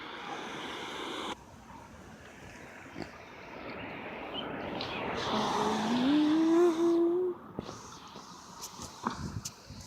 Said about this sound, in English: Look at this car that's coming now.